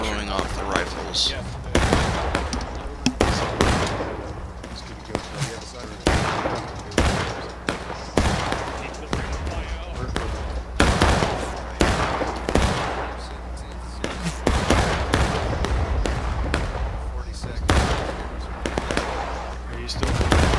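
Rifle volleys crack across a Civil War battlefield in War of Rights, dense overlapping muzzle blasts and scattered single shots, some close and sharp and others distant, under intermittent voice chat.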